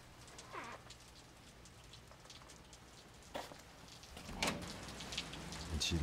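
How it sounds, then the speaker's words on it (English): Steady light rain falls outdoors, a soft continuous patter of drops on a surface, faint and even throughout, with a few brief bird-like chirps rising above it and no voices. "It was raining."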